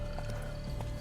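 Horse hooves clip-clop in the video game The Witcher 3: Blood and Wine, a few distinct hoof strikes over a steady low game background, moderately close, with no speech.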